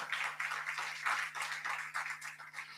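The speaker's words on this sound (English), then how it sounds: "Give her another round of applause for me." Sustained audience applause for poet Olive Senior at a World Poetry Day celebration at the National Library of Jamaica, a dense, even patter of many hands clapping over a faint steady hum.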